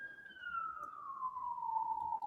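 A police siren sounds outside as one long wail, its pitch sliding steadily downward as it passes, clear and moderately loud with no one speaking.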